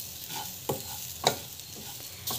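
Semolina being stirred and roasted in a pan, a soft steady sizzle broken by a few sharp scrapes of a spoon against the metal, close and clear with no talking.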